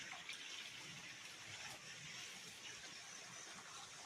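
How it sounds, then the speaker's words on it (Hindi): Water rushes in a forest stream below, a steady broadband wash heard from a short distance and holding constant and fairly loud throughout, with no voices over it. "और नीचे सुन सकते हैं आप पानी की आवाज़।"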